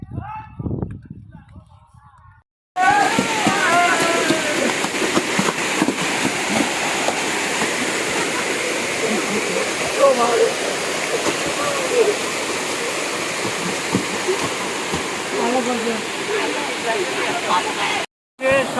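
A hillside waterfall roars in a dense, steady rush that starts abruptly after a quieter opening and holds loud and constant almost to the end, with voices faintly mixed in.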